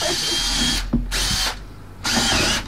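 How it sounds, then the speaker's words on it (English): A power drill whirs loudly in three bursts with brief pauses between, close up and harsh, with no talking. "that drill's not going to work"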